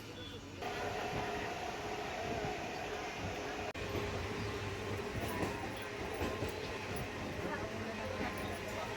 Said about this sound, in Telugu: రఘునాథ్పల్లి రైల్వే స్టేషన్ జల్దీ ట్రైన్ స్టార్ట్ అయింది